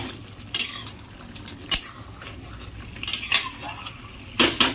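Stirring duck curry in a pot: a spoon scrapes and clinks against the metal in a few separate bursts, with a faint simmer between them and no talking.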